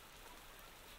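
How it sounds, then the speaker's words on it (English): Faint, even rain hiss from the Parkitect theme park game, a continuous soft patter with no other sounds over it. "Oh, it's raining."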